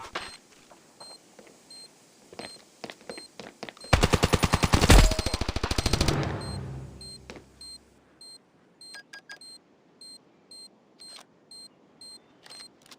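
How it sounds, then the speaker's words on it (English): Counter-Strike game audio after a planted bomb, a steady series of faint electronic beeps with a loud, rapid burst of automatic gunfire in the middle that fades out, then beeping continues alone. "Bomb has been planted."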